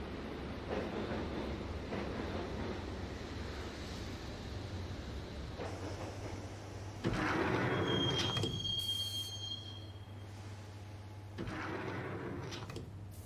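Train ride in the Max Payne video game: a steady rumbling rail carriage with a high squeal of wheels rising midway, the rolling clatter continuing throughout with no talk.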